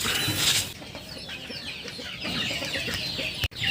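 Large farm chickens cluck continuously and close by, a busy overlapping flock, ending with a sharp brief knock.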